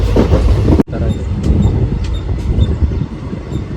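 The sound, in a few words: passenger train running, Hassan towards Jog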